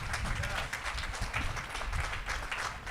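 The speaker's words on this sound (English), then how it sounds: "let's give a round of applause to the parents and guardians and families who helped our graduates" An audience applauds at a high school graduation ceremony, a broad crowd of clapping filling the space at moderate volume, with cheers and talk mixed in underneath.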